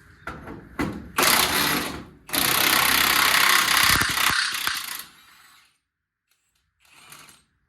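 Impact wrench working rusty bolts loose on a 1979 Volare wagon: bursts of loud, close mechanical rattling hammering, a short one then a long sustained run of several seconds, trailing off into quiet with a faint later burst.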